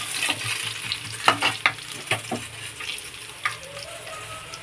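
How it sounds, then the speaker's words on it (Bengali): Whole garam masala spices and bay leaf crackle in hot oil left from frying potatoes for a festive mutton dish, a steady close sizzle broken by several sharp pops and stirring scrapes. "তেজপাতা ফোড়ন দিয়ে দিলাম"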